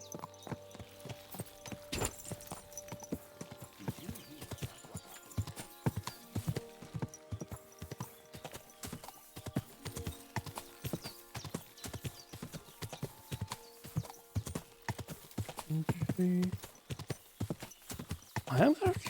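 Horse hooves clip-clop at a steady riding pace in the medieval game Kingdom Come: Deliverance II, with an occasional whinny and someone talking over the hoofbeats throughout.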